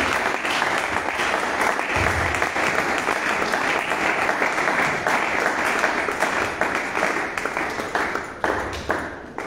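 Sustained applause from an audience at a youth entrepreneurship conference, dense clapping that stays loud and steady throughout with a brief low rumble partway through.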